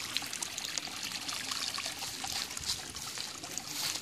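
Water pours and trickles steadily away from a supply that leaves household taps dry, a continuous splashing stream held at an even level throughout, with no voices.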